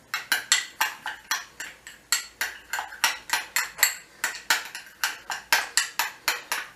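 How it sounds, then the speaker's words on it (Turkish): A spoon strikes a bowl in a fast, steady rhythm, roughly three beats a second, as mayonnaise and a spicy sauce are mixed together for a gourmet hamburger. The clinks are close and clear, with no talking. "Önce bir kaba biraz mayonezle şu sosu karıştırıyorum."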